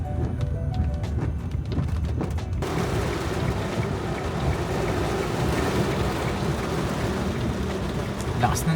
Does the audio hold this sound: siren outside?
no